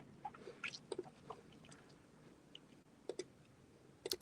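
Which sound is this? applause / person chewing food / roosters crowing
person chewing food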